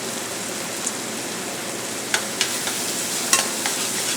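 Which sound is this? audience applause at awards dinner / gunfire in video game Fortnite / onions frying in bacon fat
onions frying in bacon fat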